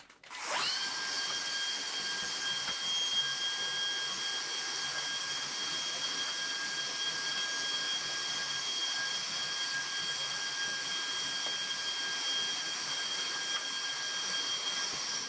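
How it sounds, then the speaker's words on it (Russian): A vacuum cleaner starts up and runs steadily, sucking debris off the floor with a loud, continuous high whine and airy roar that lasts throughout. "Сначала, конечно, пылесосом собираю мусор, основную грязь"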